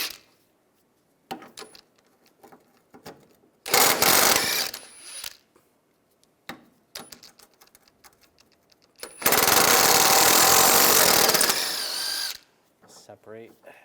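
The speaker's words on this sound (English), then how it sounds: "take these nuts off and this bolt" A power tool spins nuts and a bolt off a 2004-2009 Toyota Prius wheel hub in two loud bursts, the second several seconds long, with quiet clicks and handling noises between.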